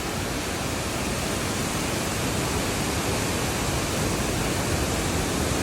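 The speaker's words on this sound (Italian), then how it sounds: "Guardate che imponenza la cascata, siamo vicinissimi." A large waterfall in Chiapas, Mexico, heard from very close, gives a loud, unbroken broadband roar that stays even from start to finish with no other sounds or voices.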